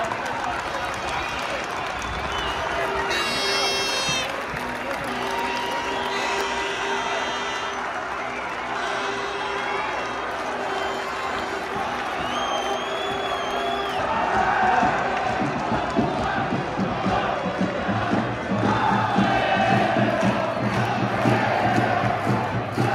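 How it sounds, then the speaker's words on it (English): A crowd cheers and roars continuously at the Scottish Junior Cup final, the noise swelling toward the end, with whistles, shouts and nearby voices talking over it. "Listen to that cheer."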